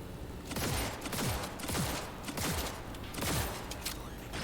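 Gunfire in the Cyberpunk 2077 video game, loud bursts of rapid shots in several clustered volleys with mechanical clatter between them, close and dense.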